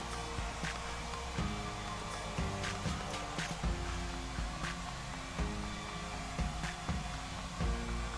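A heat gun blows over the vinyl skin corners of a Samsung Galaxy S6 Edge phone, making a steady, close airy roar with faint clicks and handling noises.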